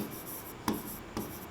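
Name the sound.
teacher writing on a board during class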